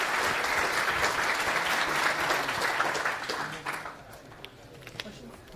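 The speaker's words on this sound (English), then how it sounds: "Can I have one applause?" A conference audience applauds at the end of a talk at FOSDEM 2023: dense, loud clapping for about three and a half seconds, then thinning out into a few scattered, fainter claps.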